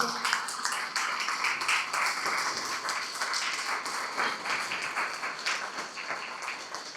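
An audience applauds to welcome someone speaker at a church gathering, a sustained wash of many claps, moderately distant and fairly quiet.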